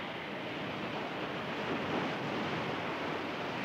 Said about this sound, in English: Now the incessant waves are breaking down the retaining wall.